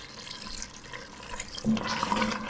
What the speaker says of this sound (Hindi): इसमें डाल देते हैं तकरीबन 3-4 टेबलस्पून पानी